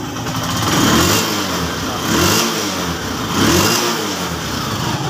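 A Honda TMX Alpha motorcycle engine with a new stator but hard starting and stalling is revved three times in steady swells over a running idle, close and fairly loud, with no talk.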